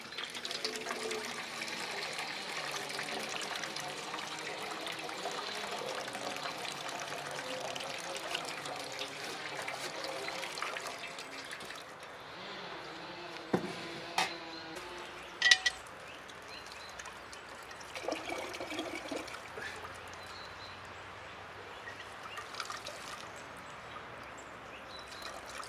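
Cold water trickles and pours steadily at a bushcraft camp caravan, a faint close splashing for washing hands, then breaks off into quieter handling sounds and a few knocks.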